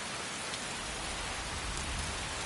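Steady heavy rain with a low thunderstorm rumble building underneath in Skyrim, a continuous hiss with no voices throughout.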